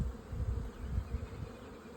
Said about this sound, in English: All the workers that you see crawling around here, all these worker bees, these are sterile females.